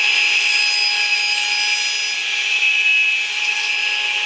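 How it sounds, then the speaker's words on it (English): A radial arm saw with its blade tilted to 45 degrees runs at a steady high-pitched whine while mitering wood pieces in a workshop, loud and close, the tone dipping slightly as it cuts. "I've tipped the blade on the rail arm saw to 45 degrees, so now I'll just miter the pieces with it."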